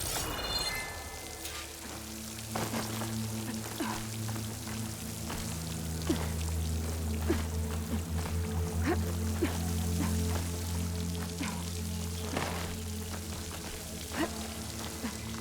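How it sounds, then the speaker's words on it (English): Water pouring and splashing steadily against a stone wall in Horizon Forbidden West, a continuous trickling flow with scattered drips over a low ambient hum. "The water's flowing into the wall."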